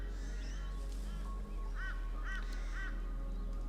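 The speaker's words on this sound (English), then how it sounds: "such as the birds chirping right now," Birds call outdoors during a yin yoga session in nature, with a few crow-like caws standing out at a moderate distance over a steady hum, repeating roughly every half second near the end.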